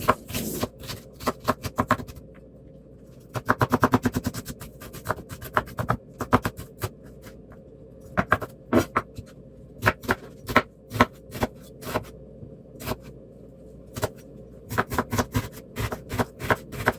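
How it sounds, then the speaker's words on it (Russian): A knife dices an onion on a cutting board in quick bursts of crisp, close taps, with short pauses between runs of chopping and no talking. "берем головку лука и нарезаем кубиками"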